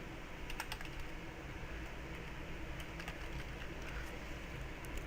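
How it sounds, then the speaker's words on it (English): Typing on a computer keyboard, a quick run of light clicking keystrokes over a constant fan-like hum, close and moderately quiet, with no talking. "If I could friggin' type."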